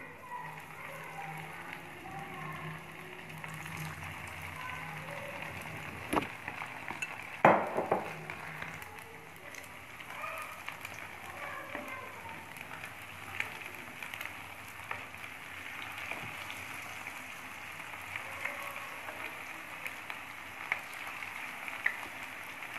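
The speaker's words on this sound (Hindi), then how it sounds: "ऑयल जो है वो गर्म हो चुका है और अब मैं इसमें डालती हूँ फिश के पीसेस" Fish pieces frying in hot oil, giving a steady, soft crackle and sizzle with a few sharper clinks of utensils against the pan, close and continuous with no talking.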